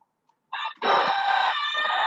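A rooster crows once, loud and close: a short opening note and then a long, strained cock-a-doodle-doo that holds for over a second before cutting off.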